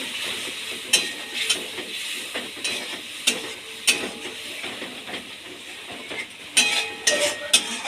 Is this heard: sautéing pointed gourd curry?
yes